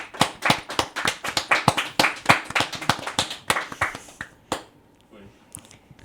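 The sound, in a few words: round of applause, clapping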